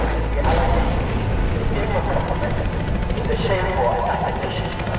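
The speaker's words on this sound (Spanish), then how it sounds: "Ese helicóptero me da mala espina." A helicopter in the video game Battlefield 4 gives a steady, loud rotor and engine drone throughout, with voices talking over it and a few sharp bangs.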